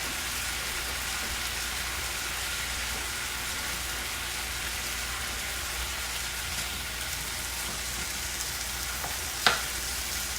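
Garlic parmesan seasoned steak sizzling steadily in a pan, a constant close frying hiss that runs without pause, with one faint clink near the end.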